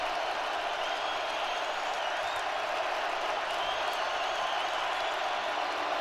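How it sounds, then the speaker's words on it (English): Stadium crowd at a Green Bay Packers vs Minnesota Vikings football game, a dense continuous roar of cheering and noise rising as the offense lines up, loud and unbroken. "As you hear the crowd kind of come to life here"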